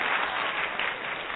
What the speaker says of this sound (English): So let's welcome her with a wonderful, wonderful round of applause.